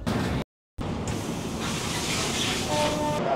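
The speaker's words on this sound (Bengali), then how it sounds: "8:34 বাজে আমাদের ট্রেন 22504 ডিব্রুগড় কন্যাকুমারী বিবেক এক্সপ্রেস এসে দাঁড়ালো বালেশ্বরে" The Dibrugarh–Kanyakumari Vivek Express, train 22504, rolls to a halt at Balasore station, giving a steady low rumble with airy hiss that is broken briefly by a short gap.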